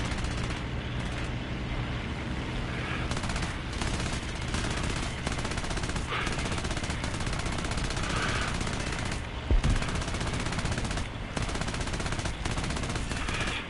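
Sustained machine gun fire in War Thunder, loud and continuous rapid bursts with brief pauses, filling the whole stretch.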